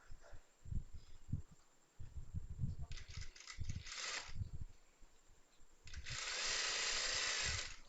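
A sewing machine stitching the back piece of a chudidar, running in short bursts of rapid mechanical whirring with pauses between, ending in a longer continuous run.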